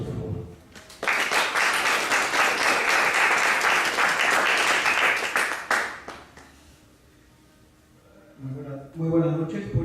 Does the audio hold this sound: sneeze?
no